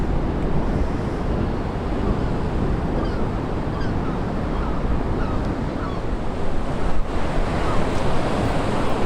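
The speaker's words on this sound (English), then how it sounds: "Tide's on the way out." Ocean waves wash on the shore as the tide goes out, a continuous broad rushing surf with wind buffeting the microphone and no talk.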